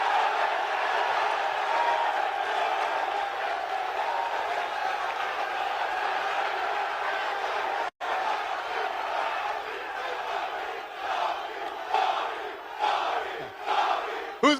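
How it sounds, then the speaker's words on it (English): Press conference crowd roaring and chanting at a boxing weigh-in event, a dense, loud wall of cheering that holds steady, breaks off abruptly for an instant, then surges back with louder bursts of shouting. "The whole crowd blowing up."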